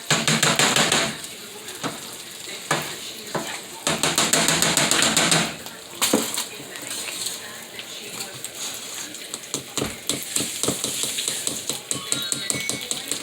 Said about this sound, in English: Once the oil has absorbed, you're going to smash them.